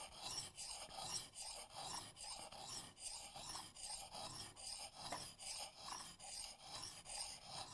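A sharpening stone rasps firmly back and forth across a hatchet blade in steady, even strokes, close and alone, with a regular rubbing rhythm of about two strokes per second.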